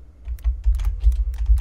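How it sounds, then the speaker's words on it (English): Rapid clicking of keys typed on a computer keyboard placed very close to the microphone, an uneven burst of sharp, loud taps with no voices. "is my keyboard always so close to the freaking microphone?"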